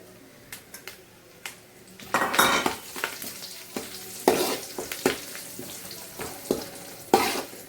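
Curry leaves dropped into garlic frying in oil for a chivda snack, setting off bursts of loud crackling sizzle with metal spoon scrapes and clinks against the pan, close by.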